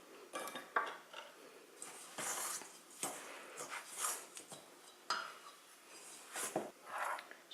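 Fork scraping and clinking in a mixing bowl while Christmas sablé cookie dough is beaten, with irregular bursts of clatter and short pauses, close and fairly loud, no voices.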